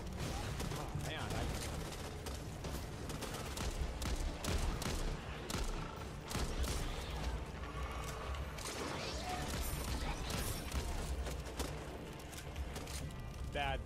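Gunfire keeps crackling and popping in a shooting video game, dense and steady throughout, with a player's voice talking over the shots.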